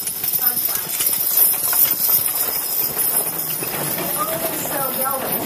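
Hooves of a Belgian draft horse hitch at an agricultural show clip-clop in a quick, steady, overlapping rhythm, fairly close and loud, with faint voices in the background.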